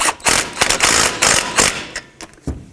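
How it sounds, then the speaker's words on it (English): A ratchet tightening a 10 mm bolt on the brake hose bracket of a 2007-2009 Saturn Aura, heard as quick, close clicking bursts with brief pauses between strokes. "put back the brake hose bracket and tighten it up with the 10 millimeter bolt"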